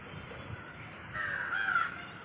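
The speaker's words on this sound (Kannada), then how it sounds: "ಎಷ್ಟು ಕಾಗೆಗಳು ಬಂದಿದ್ದಾವೆ ನೋಡಿ" Crows caw loudly nearby, a harsh drawn-out call rising over fainter background cawing and ambient noise.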